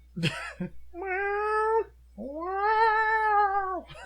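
A strange, cat-like kaiju monster from the Godzilla films lets out two long, loud, wavering yowls, each rising and falling like an exaggerated meow, after a short burst of sound.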